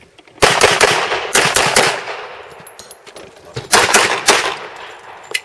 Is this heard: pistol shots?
yes